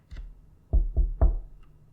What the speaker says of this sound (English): I decided to knock back.